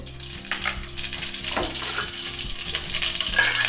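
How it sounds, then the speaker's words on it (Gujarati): Mustard seeds and cumin crackle and sizzle in hot oil in a pan, with steady frying hiss and scattered pops up close and no talking. "રસો બનાવવા માટે મેં અહીંયા તેલ ગરમ કરી લીધું છે, તેમાં રાઈ નાખીશું, જીરું નાખીશું"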